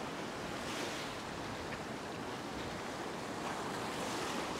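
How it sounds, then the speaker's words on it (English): Ocean waves surge steadily onto a sand spit beach as the tide comes in, a continuous close roar of surf with some wind buffeting the microphone and no voices. "Now the tide is coming in"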